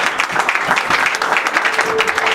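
A church congregation applauds and cheers for the Lord, loud continuous clapping from a crowd filling the room.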